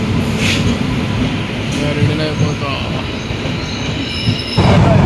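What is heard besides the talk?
train arriving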